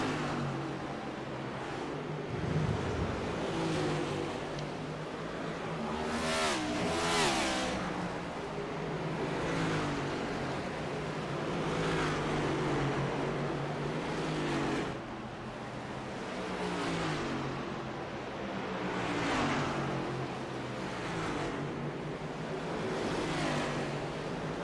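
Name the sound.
race cars lapping at North Wilkesboro Speedway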